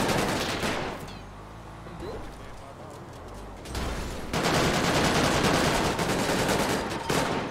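Bursts of rapid gunfire crackle in a GTA roleplay shootout outside a pier, dense loud volleys with a quieter lull in the middle, voices faintly under the shots.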